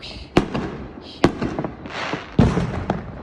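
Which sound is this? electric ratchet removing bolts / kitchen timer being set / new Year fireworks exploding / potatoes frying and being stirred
new Year fireworks exploding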